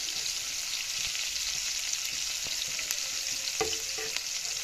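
Chopped garlic and onion with split green chillies fry steadily in a pan, a continuous close sizzle with a few light scrapes and clicks of stirring, no talking.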